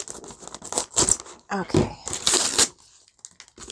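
Crinkly gift wrapping torn and crumpled open in bursts, close and fairly loud, with a brief spoken remark mixed in.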